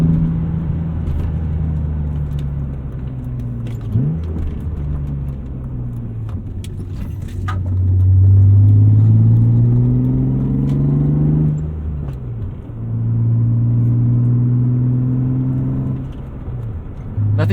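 A BMW E36 M3 engine with 260,000 miles drones from inside the cabin, pitch climbing and dropping through several gear changes as it accelerates, with small rattles and clicks.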